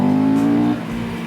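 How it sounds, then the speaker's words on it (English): Chinese motorcycle engine with the throttle snapped open, a loud, raw buzzing roar close by that holds steady and then drops slightly in pitch, with no one talking. "But the moment we snap open the throttle,"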